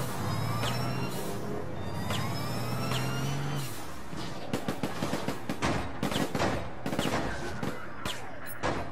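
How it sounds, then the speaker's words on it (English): Shotgun blasts in the video game APB Reloaded, a rapid cluster of sharp, loud bursts over an engine drone and in-game vehicle and siren noise, heaviest in the second half. "Ouch, that shotgun's evil."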